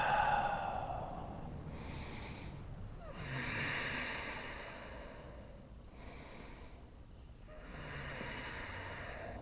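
Slow, deep breaths during a seated yoga twist, with long airy inhales and exhales that rise and fall in an even rhythm, close and soft, with no talking.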